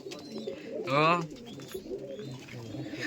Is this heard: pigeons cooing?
yes